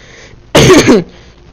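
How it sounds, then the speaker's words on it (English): One loud, harsh cough from a person feeling sick bursts out close up, lasting about half a second against a quiet background. "sorry if I'm coughing too much"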